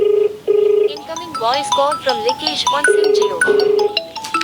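Incoming call ringtone from the Google Phone dialer app on an Android phone, a repeating steady electronic tone broken by a synthesized voice announcing the caller, loud and close.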